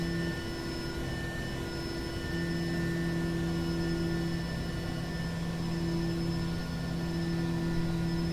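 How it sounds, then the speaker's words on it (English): A jet airliner in the X-Plane 11 flight simulator spools up on the runway for takeoff, its constant engine roar and whine steady and loud throughout with no talking. "we're going to get out here on the runway and just take off"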